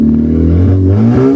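A homemade Egyptian replica of a Lamborghini, built by its owner on a rooftop in Dakahlia, runs its engine close by. It makes a steady, loud, droning idle with slight pitch wobbles, like gentle revving, and no talk over it.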